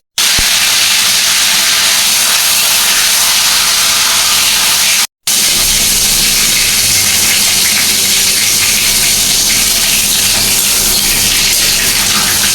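Shrimp hitting hot oil that already holds dried red chillies, giving a loud, steady, close hissing sizzle that runs on without a break after a brief cut, with no talking.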